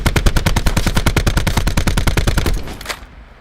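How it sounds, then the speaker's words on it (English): Assault rifle in Black Ops 4 firing a full magazine with attachments, a loud, rapid, evenly spaced burst of about twenty-five shots that stops sharply and leaves a brief fading tail. "we're actually going to continue shooting this same gun with all the attachments."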